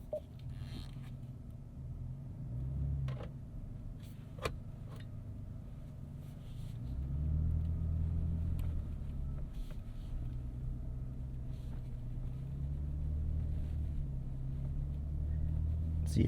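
2025 Nissan Armada Pro 4X with air suspension driving off-road through mud: steady low engine rumble and drivetrain drone inside the cabin, with occasional faint knocks and creaks from the body and a few brief muffled voices.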